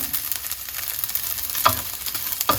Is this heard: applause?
no